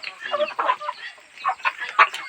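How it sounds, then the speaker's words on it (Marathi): Chickens cluck busily at a village poultry farm, overlapping calls in close, irregular bursts with no talk over them. "हे बघा किती कोंबड्या आहे तिथे"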